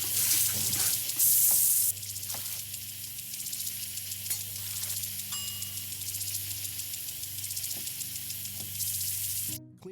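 Water runs steadily from a kitchen tap during washing with soapy water, a continuous hissing stream with occasional clinks and knocks of items, ending in a sudden cut-off.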